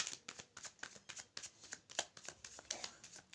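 Tarot cards being handled and shuffled up close, a string of crisp, papery riffles and flicks in an uneven rhythm, soft but clear with no talking over them.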